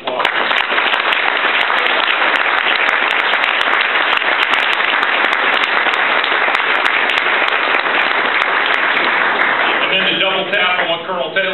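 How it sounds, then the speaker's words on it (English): Sustained, dense audience applause after a speech at a military headquarters battalion event, steady and loud for about ten seconds before fading as a voice begins talking at the end. "Big round of applause."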